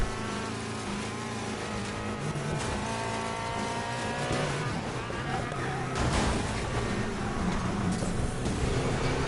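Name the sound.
pursuing cars right behind, Need For Speed Payback video game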